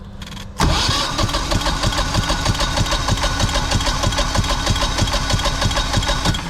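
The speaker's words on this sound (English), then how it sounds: "We're going to go ahead and crank it again." A Generac generator engine cranking during a compression test with a gauge hooked up, a sudden loud start into a steady, rapid rhythmic chugging that continues evenly for several seconds.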